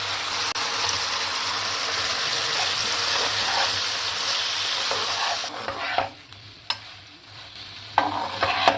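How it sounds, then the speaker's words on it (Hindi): Chicken for chicken 65 goes into a frying pan with fried chillies, green chillies and a splash of water. A loud, steady sizzle fades into quieter frying broken by clattering stirs of a spoon against the pan. "अब हम इसमें चिकन शामिल कर देंगे"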